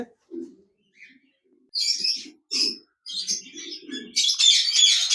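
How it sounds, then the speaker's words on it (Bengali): Java sparrows chirp and twitter in short bursts up close in a cage, sharp high notes alternating with lower rasping calls, growing busier toward the end. "জাবা পাখি রয়েছে"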